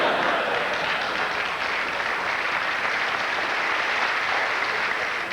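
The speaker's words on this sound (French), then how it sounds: "Merci beaucoup d'avoir applaudi avant que je commence." A comedy gala audience applauds in a dense, sustained wash of clapping that holds steady throughout, moderately loud and without a break.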